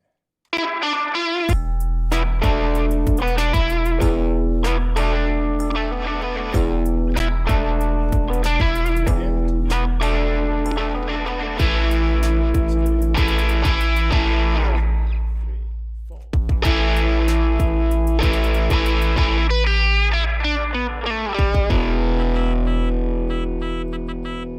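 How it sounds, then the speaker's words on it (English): Zurna, a Turkish double-reed horn, plays loud buzzing sustained tones with a heavy pumping rhythm and reverb, in phrases that cut off abruptly and restart several times. "Sound is called a zurna"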